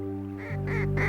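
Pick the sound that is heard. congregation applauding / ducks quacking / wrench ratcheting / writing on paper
ducks quacking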